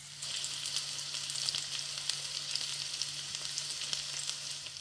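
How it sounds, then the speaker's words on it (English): Onions frying in a pan, giving a steady, even hiss of sizzling oil with faint crackles, close by and moderately quiet, with no voices. "So we'll fry these onions off"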